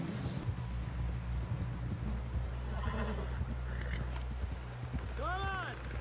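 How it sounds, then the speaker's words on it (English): Horse hooves clip-clop steadily under a low rumbling game soundscape, and a horse neighs near the end. Voices talk over the scene. "Someone help John down off this horse"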